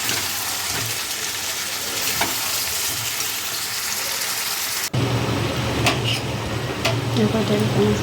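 Chicken sautés in hot oil for a goal morish (black pepper) chicken dish, giving a loud continuous sizzle with scattered stirring scrapes and a brief interruption midway.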